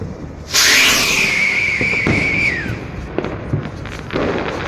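A New Year's firework bursts sharply, then a long descending whistle trails off over crackling pops and background noise; no talking.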